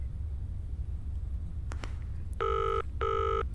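In the Zoochosis video game, a telephone rings twice in clear, evenly spaced electronic bursts over a low rumbling ambience, after a couple of faint clicks.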